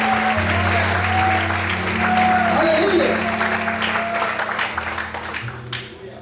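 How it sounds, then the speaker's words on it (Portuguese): Congregation clapping in church during an evening service, loud continuous applause over sustained keyboard chords, with a voice calling out over it before the clapping thins toward the end. "Será que você pode aplaudir ao Senhor essa noite?"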